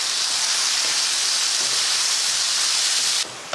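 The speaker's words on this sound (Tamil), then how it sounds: "அடுத்து உப்பு சேர்த்துட்டு நல்லா கலந்து விட்டுருவோம்" Beetroot and onions sizzle in a frying pan as salt is stirred through, a steady loud hiss filling the whole stretch before dropping off abruptly near the end.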